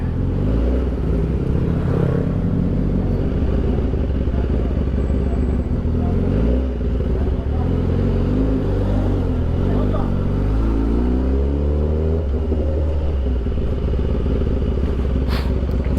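Busy street traffic of cars and motorcycles rumbles steadily, with engines revving and accelerating nearby as vehicles pass close by, forming a dense, continuous roar throughout.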